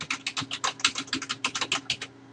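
Computer keyboard typing a folder name, a quick run of crisp, close key clicks in an uneven rhythm with no talk.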